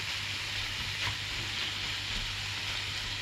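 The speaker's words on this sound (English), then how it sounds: "What I'm after here is just a little bit of browning all round." Meat browning in a frying pan for a winter casserole, with kidney in the pan: a steady, close sizzle and fry hiss running unbroken throughout, with one brief brighter crackle partway through.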